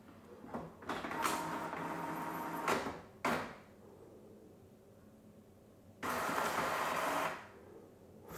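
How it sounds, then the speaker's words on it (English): Wireless printer printing over a network through a Raspberry Pi, heard close by in several bursts of mechanical whirring and paper-feed noise, with quiet gaps between them. "it's starting to print"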